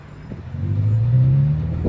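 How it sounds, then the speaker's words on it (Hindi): An Avatr 11 car with a V6-style engine sound accelerates, giving a steady, loud engine drone that rises in pitch over nearly two seconds, heard close and without talk. "तो सबसे अच्छा साउंड V6 का है।"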